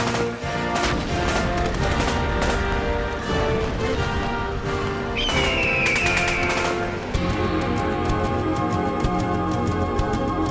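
Revolver shots ring out in a JoJo fighting video game, a dense, rapid string of gunfire and impact effects layered over busy game sound, loud and continuous with a brief whooshing streak midway.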